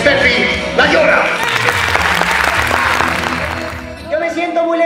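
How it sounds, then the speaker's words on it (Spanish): Applause from a comedy show audience welcoming a performer, loud and dense clapping that swells and then tapers off, with a voice speaking over it. "Quiero ese aplauso ensordecedor para recibir a la madre de este espectáculo"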